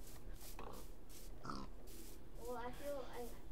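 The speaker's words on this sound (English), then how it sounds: "So many pigs!" Pigs grunting and oinking in the Minecraft video game, a few short grunts spaced out over several seconds against a steady background hum, with no talking.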